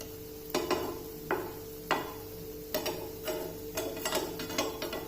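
Potato hash brown cooking uncovered in an open pan, a soft steady sizzle broken by several sharp scraping or pressing clicks at irregular intervals, close and fairly quiet with no voices.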